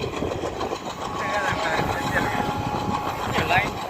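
The Yal Devi passenger train running between Kilinochchi and Jaffna, a steady rumbling roll with faint rhythmic clatter of wheels on rails and some squealing tones, heard from inside or near the carriages.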